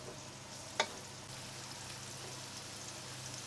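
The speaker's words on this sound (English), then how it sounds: "add the onions into the roasting pan and fry on medium heat" Onions fry on medium heat in a roasting pan with a steady, soft sizzle and one brief clatter near the start, and nobody speaks.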